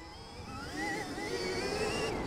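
A Stark Varg electric motorcycle rated at 80 horsepower accelerating at quarter throttle, its motor whine rising smoothly in pitch over a steady rushing rumble, close and fairly loud.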